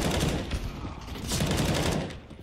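Pistol fire during a Counter-Strike match between Cloud9 and FaZe comes as a dense, steady crackle of rapid shots, fairly close and continuous, without a clear pause.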